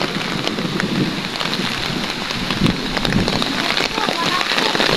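Steady rain falls during a typhoon, a dense close hiss of drops on surfaces continuing for five seconds with scattered louder splashes.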